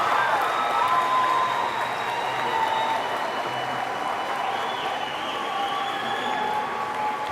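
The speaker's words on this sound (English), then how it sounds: "give them a round of applause." Sustained applause from a crowd at the Platte County High School class of 2019 graduation ceremony, steady clapping with light cheering mixed in throughout.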